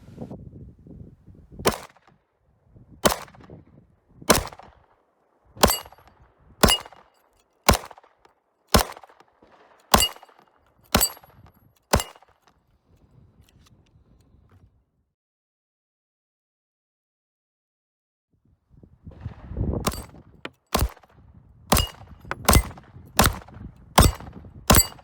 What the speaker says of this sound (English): I'm shooting at the same distance, 10 meters, at 6-inch gongs.